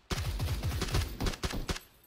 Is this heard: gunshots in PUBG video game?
yes